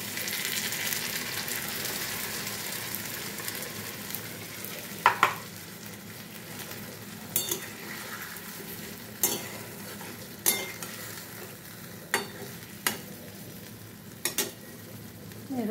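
Fried pointed gourd sizzling in a pan after poppy seed, mustard and chilli paste goes in, a loud hiss that settles into a steady sizzle punctuated by about eight sharp spatula clacks against the pan.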